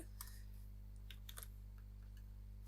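Keystrokes on a computer keyboard, a few scattered clicks in short bursts, close and fairly quiet over a steady low electrical hum.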